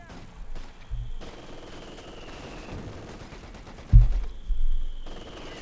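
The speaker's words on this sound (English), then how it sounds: "Going to end up being hammered here by the 50 cal." Bursts of .50 cal machine gun fire rattle in Company of Heroes 2 alongside other battle sounds, including a loud thumping impact near the end, all at a moderate level.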